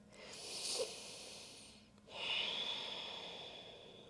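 Deep yoga breathing, heard as a long hissing inhale and then a strong, breathy exhale close to the microphone. Each breath lasts about two seconds, with no voices.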